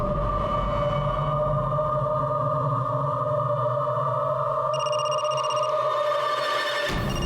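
A phone rings with a sustained electronic tone pattern, steady and fairly loud, with higher beeping notes added near the end before it cuts off, with no talk.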